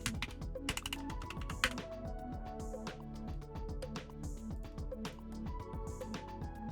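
Rapid, steady keystrokes clatter on a computer keyboard as login credentials are entered, close and fairly quiet, with no voices.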